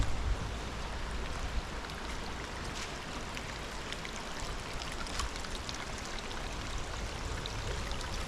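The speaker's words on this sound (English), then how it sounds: "You can see through the trees there, you can see the creek running." A forest creek runs steadily at Hickory Run State Park, with continuous bubbling, rushing water close by and no voices.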